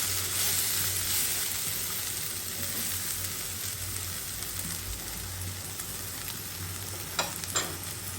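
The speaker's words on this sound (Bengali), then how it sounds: "আর এখানে আলু ভাজি করে নিচ্ছি।" Potatoes frying in a hot pan, a steady close sizzle and crackle with a faint clink or stir near the end, no voices.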